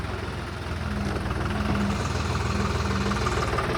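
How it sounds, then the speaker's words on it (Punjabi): A John Deere 5055 tractor diesel engine idles steadily after an inline fuel pump repair, giving an even, close, throbbing rumble with no talking. "ਟਰੈਕਟਰ ਦੀ ਬਾਜ ਬਹੁਤ ਸੋਹਣੀ ਬਣੀ ਆ"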